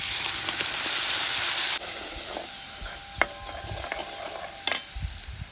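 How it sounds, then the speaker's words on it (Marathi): Tomato puree and spices for palak paneer hitting a hot pan, a loud burst of sizzling that quickly drops to a softer simmering crackle with occasional scraping stirs, close and alone. "त्यानंतर आपण जी टोमॅटोची प्युरी केली होती ती घालणार आहोत त्याच्यात."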